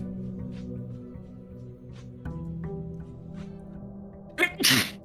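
A single sharp sneeze from a person playing the puzzle game Blue Prince bursts out near the end, loud and close, over a low steady game-music drone.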